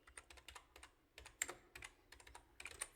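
Quiet, steady clicking of keys on a computer keyboard as Python code is typed, irregular bursts of keystrokes close by with no voices.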